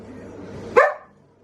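Max the dog gives a single sharp, loud bark up close indoors, which fades quickly into quiet after a soft, low murmur just before it.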